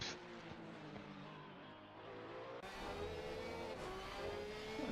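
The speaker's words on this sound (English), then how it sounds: "Porsche sounds really good" A Porsche GT3 race car engine in an esports GT3 championship sim race at Barcelona drones loudly and continuously, revving with shifting tones as other cars roar nearby.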